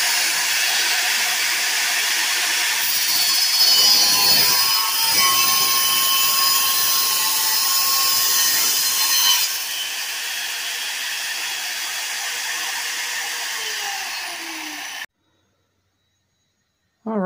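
Power saw cutting an Armstrong HA wing tip at a 45-degree angle. It gives a loud steady whine and hiss that keeps going for about fifteen seconds, then cuts off abruptly. No speech is heard.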